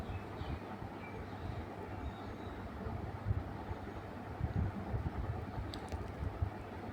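Sewing machine running steadily while stitching the seams of a cross-cut saree petticoat, a continuous close mechanical whirring and rattling throughout with no talk.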